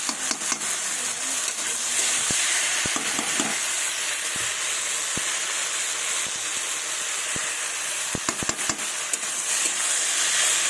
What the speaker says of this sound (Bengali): দেখুন, এবার ভালোভাবে কষিয়ে নেব।